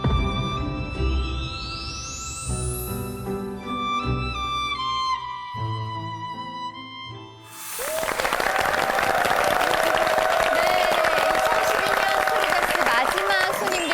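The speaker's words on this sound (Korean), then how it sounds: "다시 한번 환영의 박수 보내주세요." An audience gives a welcoming round of applause for hospice workers. It starts after a stretch of music and turns into dense, loud clapping that keeps on steadily to the end.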